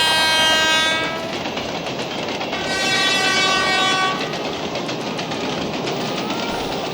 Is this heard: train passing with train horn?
yes